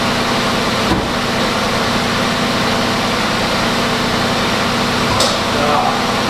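A Buick LeSabre with a large EVAP leak idles steadily close by, a constant low engine hum and hiss holding even throughout, with a couple of brief clicks.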